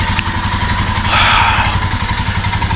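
A motorcycle engine idles loud and close as it warms up on a cold morning in the Sikkim mountains. The steady, throbbing pulse rises briefly with a bit of throttle midway.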